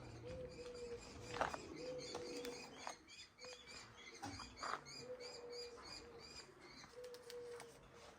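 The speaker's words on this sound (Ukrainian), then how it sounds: "Тут багато пташок." Many birds coo and chirp at an animal shelter in Lviv, soft repeated dove-like coos overlapping with light tweets, faint and somewhat distant, with a few small knocks in the background.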